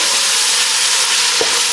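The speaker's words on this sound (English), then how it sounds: "we're going to cook our onion now" Onion frying over high heat in a pan with bacon and jalapeno, a loud, dense, continuous sizzle with one brief soft thump near the end.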